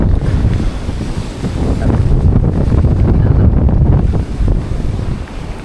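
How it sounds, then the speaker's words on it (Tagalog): Typhoon-strength wind roars steadily into the microphone on the coast at Dinahican, Infanta, Quezon, a constant heavy buffeting rumble with gusts rising and falling. "Lakas ng hangin."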